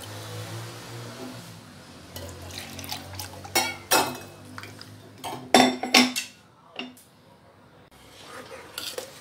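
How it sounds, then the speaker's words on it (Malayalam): Clinks and scrapes of a pot and utensils as ground paste is poured into cumin rice porridge cooking on the stove, with soft liquid sounds and scattered metallic knocks up close. "പിന്നെ ഇതിലേക്ക് ഈ അരച്ചതും കൂടി ഒഴിച്ചു കൊടുക്കാം നമുക്ക്."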